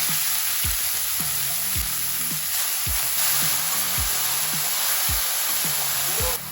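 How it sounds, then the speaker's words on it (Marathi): Grated carrots fry in ghee for carrot halwa with a constant sizzling hiss, while a spoon stirs them in a regular rhythm of dull thuds, about one or two each second. "तर ह्याच तुपामध्ये आपलं गाजर परतून घ्यायचे"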